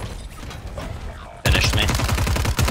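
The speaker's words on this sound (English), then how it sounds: "Oh, now they're shooting at me from across, and I got two SMGs." Gunfire in the Call of Duty Warzone video game, with enemies shooting from across the map and the player carrying two SMGs. A quieter stretch gives way to loud, rapid automatic bursts up close.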